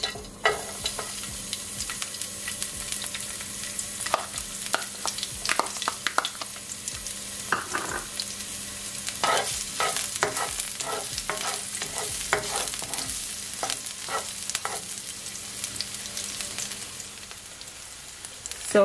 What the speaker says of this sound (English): now I'm gonna add my garlic and my onion, and I'm just gonna allow it, guys, just to saute